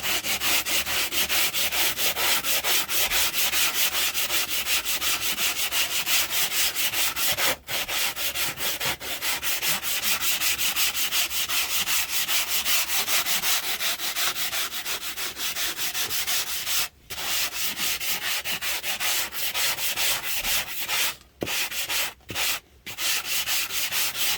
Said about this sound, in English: with this sanding block that I have right here